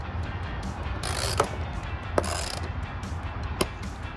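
A socket fitted with a torque bit tightens fender flare mounting bolts on a 2004-2008 Ford F150, giving a few sharp metallic clicks over a soft, steady background hiss.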